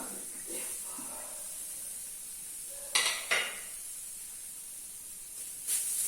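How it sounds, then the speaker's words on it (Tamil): Grated coconut dry-roasts in a pan while being stirred, a quiet steady hiss punctuated by a few brief scraping strokes of the spatula against the metal, with no talking. "தேங்காய் வந்து இந்த ஈரப்பதம் போகிற வரைக்கும் வறுத்தா போதும்"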